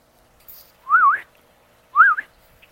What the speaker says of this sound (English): Sorry for whistling so loudly.